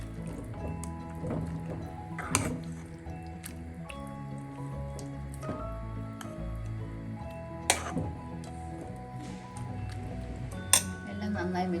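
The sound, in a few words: mixing chicken with ground coriander and mint in a pan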